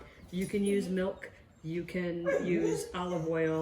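A dog yips, whimpers and barks in short excited bursts at another dog out on the sidewalk, while a person talks over it in a kitchen during cooking.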